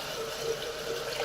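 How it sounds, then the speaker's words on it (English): Filtered water runs steadily into a jar of broccoli seeds for a rinse, a close, continuous splashing wash with a bright liquid swirl and no voices. "the first thing you want to do is give them a good rinse"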